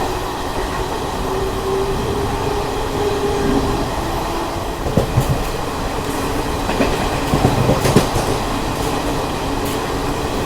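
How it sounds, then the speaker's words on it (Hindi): Puri-Patna Express with ICF coaches running at speed past a railway station at night, a loud continuous rumble with rhythmic clickety-clack of wheels over rail joints and brief metallic squeals. "फिलहाल कुछ ही देर में अपनी ट्रेन स्किप करने वाली है पांसकुड़ा जंक्शन रेलवे स्टेशन पे।"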